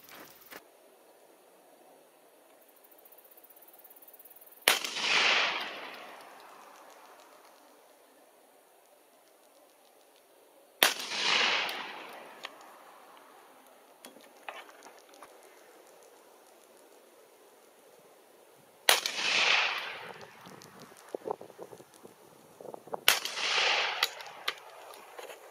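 Four loud shotgun blasts from Carlson's Delta Waterfowl shells fired through a modified choke outdoors, spaced several seconds apart, each a sharp crack with a long decaying echo, the last two coming close together.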